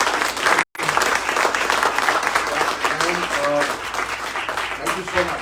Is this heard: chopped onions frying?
no